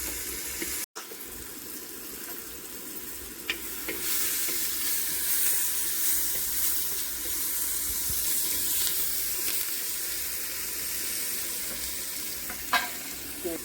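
Onions and green chilies sauté in a pan with a steady, fairly loud sizzle that lasts the whole time, broken by occasional faint scrapes and clicks from stirring.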